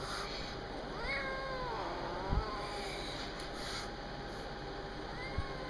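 A sick, nearly blind feral kitten meows repeatedly in rising, wavering cries over a steady low hum, with a couple of soft thumps.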